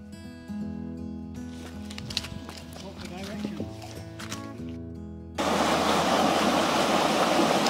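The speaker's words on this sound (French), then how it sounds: "Et nous voici arrivés à Mountain Waterfall, la cascade de la montagne, avec ses deux bassins ici." Mountain Waterfall on Koh Samui pours into its two rock pools in the jungle, a loud steady rush of falling water swelling in after music and a voice fade out.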